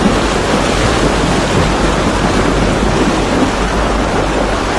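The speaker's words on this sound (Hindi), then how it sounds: "गाड़ी अब चली पानी में।" A Mahindra Thar SUV ploughs through a deep off-road water crossing, giving a loud, continuous broadband rush and churn of water with a low rumble underneath, steady for the whole stretch.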